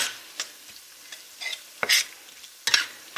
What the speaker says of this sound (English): Okay, so we're going to stir that in.